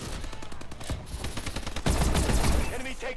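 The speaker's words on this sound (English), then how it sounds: "I'm gonna shotgun you." Shotgun blasts in a multiplayer shooter game, booming bursts amid dense gunfire and explosions, growing louder and heavier midway, with faint talk underneath.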